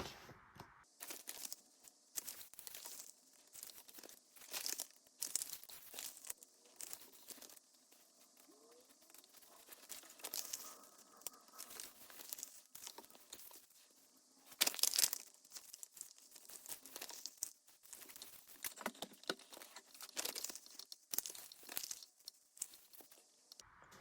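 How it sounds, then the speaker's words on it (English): Sheets of paper being folded and creased for ephemera and paper pack crafting, heard as a steady run of close, crisp crinkles and sharp creasing swipes that come in irregular bursts throughout, with no speech. "So let me fold the rest of my papers."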